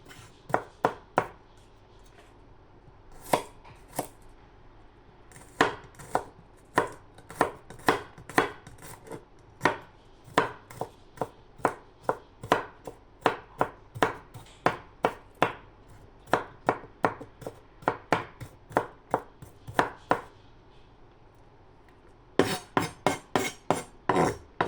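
Knife chopping beef on a cutting board in a steady run of sharp, close knocks, with brief pauses and a quick burst near the end, no talking.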